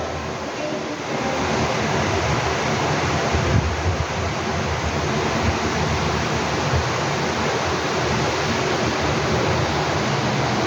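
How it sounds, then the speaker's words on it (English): Sand poured into water during a classroom experiment: a steady, broad rushing wash runs the whole time, fairly loud and unbroken, with no talk over it. "Maria, I want you to pour the sand on the water."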